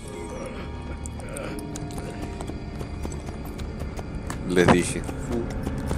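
Hooves clip-clop at a steady gait as a horse is ridden in Assassin's Creed Brotherhood, close and clear, with mechanical clanks and a brief whinny near the end while someone talks over it.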